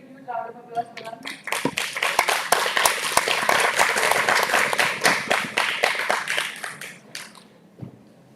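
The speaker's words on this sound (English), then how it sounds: "Please give a huge round of applause for them" A live audience at a game showcase event breaks into loud, sustained clapping for the presenters, building quickly and holding steady for several seconds before fading, with a few voices audible early on.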